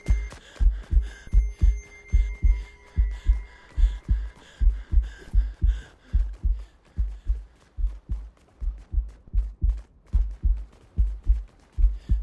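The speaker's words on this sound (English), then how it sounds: "A heartbeat noise." Heartbeat in a Fortnite backrooms map: a steady, loud double-thump pulse repeating about twice a second, deep and close, with faint tones and scattered clicks behind it and no talking.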